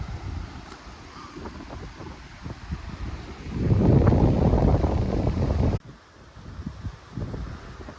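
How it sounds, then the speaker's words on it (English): Wind gusts off Lake Winnipeg on an open shoreline, buffeting the microphone in uneven bursts that swell loud around the middle and then drop away abruptly. "It's windy right here."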